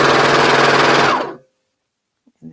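A sewing machine stitching the sides of a pair of pants together, loud and close with a fast steady whirring hum that stops abruptly, followed by near silence and a faint voice.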